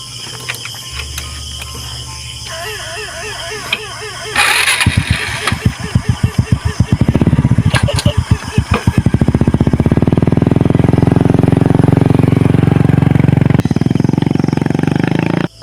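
A motorcycle engine starts up nearby with a rapid chugging burst, then settles into a loud, steady idle that runs on for several seconds.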